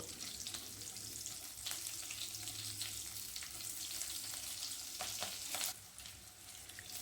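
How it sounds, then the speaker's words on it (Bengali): Cinnamon, cardamom and slit green chillies fry in hot oil with a continuous bright crackling sizzle, a few stirring clatters near the end, no voices. "এরপর তেলের মধ্যে দিয়ে দিচ্ছি এক টুকরো দারচিনি দু টুকরো এলাচ আর চার পাঁচটা চেরা কাঁচা লঙ্কা দিয়ে এগুলিকে 30 সেকেন্ডের জন্য একটু ভেজে নেব"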